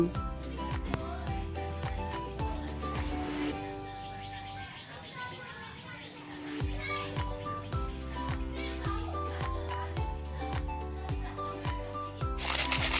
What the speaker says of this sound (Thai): ได้ยินเสียงแห่งความกรอบไหมคะ นี่คือถั่วที่คั่วแห้งสนิท